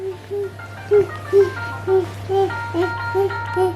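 An ice cream truck plays its jingle nearby: a bright, repeating chime melody of short even notes over a steady low engine hum.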